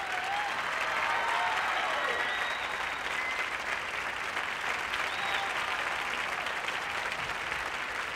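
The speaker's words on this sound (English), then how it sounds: "Let's have a real cheer for them." A studio audience at the 1984 MDA Telethon cheers and applauds after a break-dance act, a loud, sustained wash of clapping with scattered whistles and shouts that holds steady throughout.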